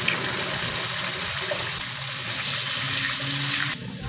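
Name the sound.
water poured into a pan of cooking sauce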